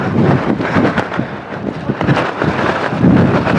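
Gusty wind buffeting a microphone outdoors on a foggy hillside in Chikmagalur, a loud, uneven rumble and roar that swells and eases in bursts, with no speech.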